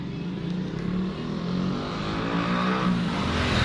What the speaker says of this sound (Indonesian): kita coba lagi tes engkol